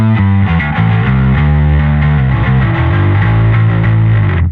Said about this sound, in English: the distortion block on its own is going to be fairly aggressive